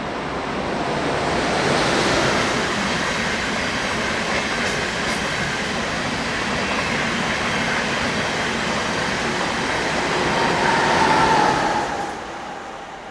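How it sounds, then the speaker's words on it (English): Locomotive 185576 hauls a Verona to Bremen intermodal freight train past, a loud continuous rushing roar of wheels and wagons that holds steady for many seconds before easing off at the end. "we had 185576 coming around the corner on a Verona to Bremen intermodal"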